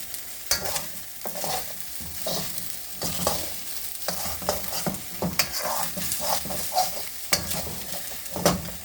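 Vegetables and purple jasmine rice being stirred in a hot metal pan, with steady sizzling frying and repeated scraping, clattering utensil strokes throughout, close and moderately loud.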